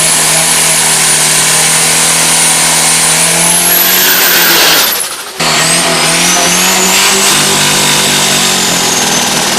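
A Toyota Tiger pickup drag racer with a Mitsubishi engine screams loudly at high revs, climbing in pitch. It cuts out briefly at a gear change, then roars on close and sustained.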